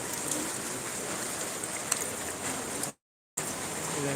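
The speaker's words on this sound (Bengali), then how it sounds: "গুড়ি গুড়ি বৃষ্টি হচ্ছে" Soft, steady patter of light drizzle falling on surfaces in flooded Dhaka, a continuous gentle hiss broken by a brief moment of total silence.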